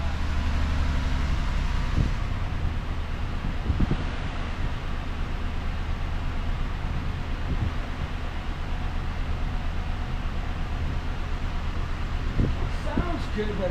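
A freshly reassembled Buick 3800 car engine idles roughly, a steady low droning hum that continues throughout with a few faint knocks and rustles in the background.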